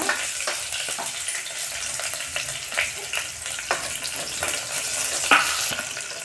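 Onion and fenugreek seeds frying in a pan for dal, a continuous close sizzle broken by repeated light clicks and scrapes of a stirring spoon, with no talking.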